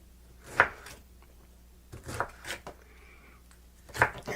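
Knife chopping pineapple slices on a cutting board, three separate sharp knocks spaced over several seconds with a couple of softer taps between, close and clear in a quiet kitchen, no talking.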